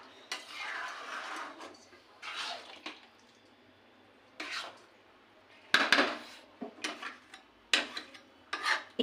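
A spoon scraping and stirring egg with spinach and ghee in a pan, in short separate bursts of metal rubbing with quiet gaps between them.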